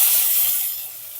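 Chopped onion sizzling in hot oil for fried rice, a steady close hiss of frying that fades slightly toward the end, with no voices.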